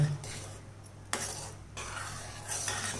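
A spoon stirs boiling sundakkai dal kootu in a cooking pot, with a few distinct scraping clinks of metal against the pot over a low bubbling simmer, close and fairly quiet.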